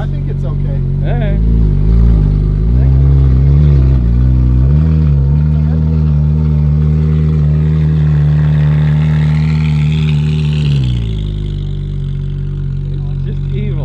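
A Ferrari 458 on new HRE wheels drives close by with a loud, sustained engine drone whose pitch climbs and shifts under load, then drops away near the end.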